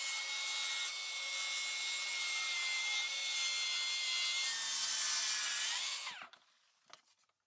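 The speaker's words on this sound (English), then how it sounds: "so we needed to make a rip cut" A power saw rips lengthwise through a wooden IKEA kitchen worktop in a loud, sustained whining cut lasting several seconds. The saw then spins down abruptly, and a few faint knocks follow.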